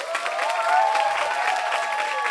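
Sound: applause

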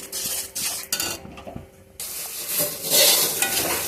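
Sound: whole cumin seeds sizzling in hot oil

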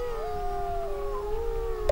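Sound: people imitating wolf howling

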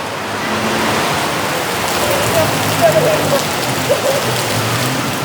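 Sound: rain falling in Bangkok at night

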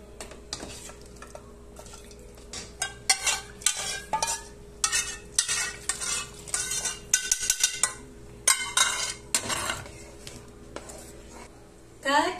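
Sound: stirring red mole sauce with guajillo chiles

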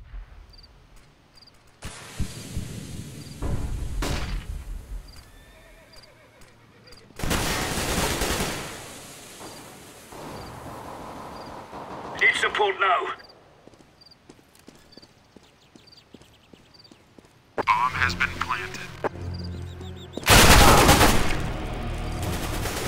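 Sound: gunfire in the video game CS:GO

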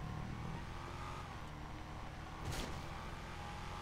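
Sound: vehicle drifting in a parkour video game

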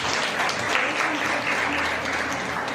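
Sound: audience of parents applauding

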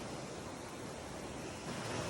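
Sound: ocean waves washing onto sand at Rayong beach

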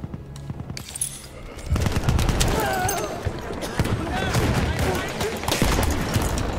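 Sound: gunfire in the video game Battlefield 1

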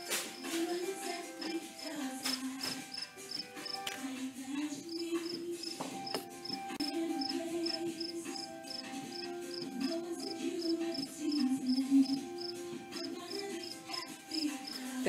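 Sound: cricket chirping

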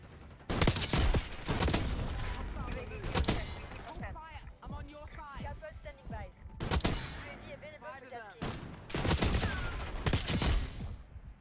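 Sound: Dragunov SVD sniper rifle gunfire in video game Black Ops 6

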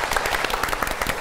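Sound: audience applause

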